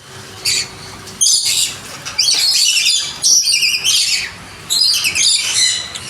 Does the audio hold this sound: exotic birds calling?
yes